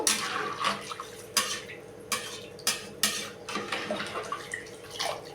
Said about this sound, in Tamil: உப்பு போட்டு நல்லா கிண்டி விடுங்க